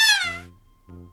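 A cartoonish cat meow from the Talking Cat video game, one bright, high, wavering call followed by a short lower tone, heard alone with no talking.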